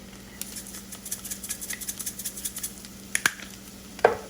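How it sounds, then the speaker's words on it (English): A spoon or spatula stirs red pepper flakes into bacon fried rice in a pan, with a faint sizzle under soft, irregular scraping taps and a couple of sharper clinks toward the end. "I'm just going to mix this in a little bit like that."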